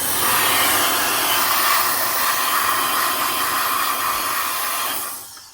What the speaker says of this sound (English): Little air blower.